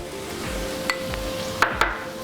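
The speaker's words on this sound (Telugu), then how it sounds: "పచ్చి వాసన పోయేంత వరకు మనం ఫ్రై చేసుకుందాం" Chilli flakes and pepper powder fry in a pan for Indian-style white sauce pasta, a soft steady sizzle with a few light clinks of a spoon against the pan.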